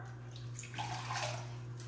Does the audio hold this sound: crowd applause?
no